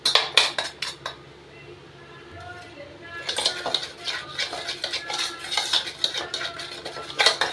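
Flour and butter being mixed in a bowl for pattanam pakoda, with repeated scraping and clinking of a utensil against the bowl in bursts, a short pause midway, and a voice talking alongside.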